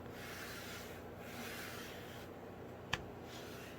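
Fabric on a notebook is burnished down into the spine gutter with a steady, quiet rubbing scrape, marked by one brief faint tap near the end.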